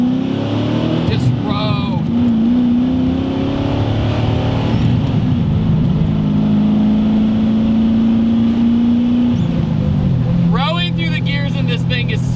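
A Nissan 300ZX Z31 engine pulls hard under throttle, a loud sustained drone rising in pitch, dropping back around an upshift and climbing again, with a person talking over it throughout.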